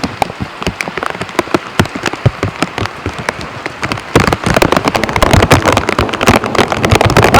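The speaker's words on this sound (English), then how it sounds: "A lot of rain." Heavy rain during a thunderstorm in Vancouver, Washington, drums as close, dense drips and splatters on a nearby surface, then grows louder and fuller partway through, with no talking.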